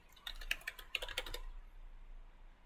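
Keystrokes on a computer keyboard during screen-reader web navigation, a quick burst of separate taps for about a second and a half, then quiet.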